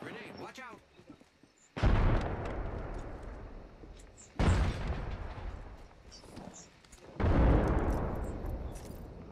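Grenade blasts in a video game boom three times in succession, each a loud sudden burst followed by a long rumbling decay, with a voice briefly heard before the first.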